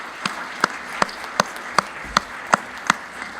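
Applause for chiefs at a land policy conference in Africa: a sparse, regular series of about eight sharp claps, roughly one every half second, sounding like a single pair of hands or a thin, slow clapping rather than a full crowd.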